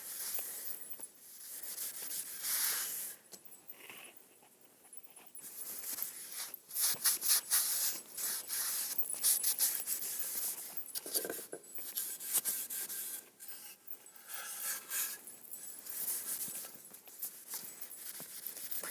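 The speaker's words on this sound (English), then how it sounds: "you're just going to wipe that stain off" Cloth or rag wiping stain across sanded, red-painted wood to distress it, a soft irregular rubbing and scraping that comes in bursts with brief pauses, close and fairly quiet with no talking.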